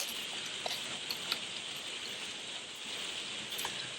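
Steady rain hisses softly, with occasional faint drips and patters landing close by, quiet and continuous throughout.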